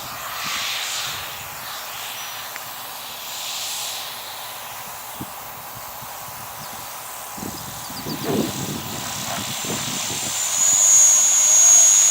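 A small electric Turbo Beaver model plane whines faintly overhead against a hissy background, with some bumps and rustling close by.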